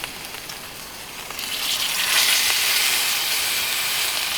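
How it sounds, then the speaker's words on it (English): Steaks are laid into a hot cast iron pan and sear with a loud hiss, the sizzle swelling sharply about halfway through and then holding steady and close. "And now we're going to lay the steaks in."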